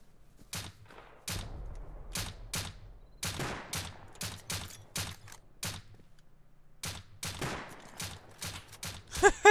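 Rapid bursts of gunfire in the video game Rust crack out in clusters, sharp and loud, with short gaps between volleys.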